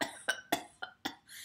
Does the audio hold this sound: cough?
yes